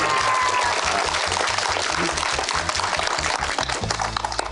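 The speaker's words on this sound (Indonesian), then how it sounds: "tepuk tangan dulu" A studio audience at an Indonesian Ramadan television show bursts into steady, loud applause that fills the whole stretch, with some rhythmic group clapping underneath.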